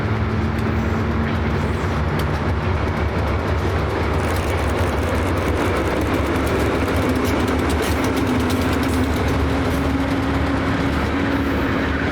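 An Ohio Central freight with B23-7R locomotives coasts downhill over a road overpass near Zanesville, a steady loud rolling rumble with a low droning tone that lasts throughout.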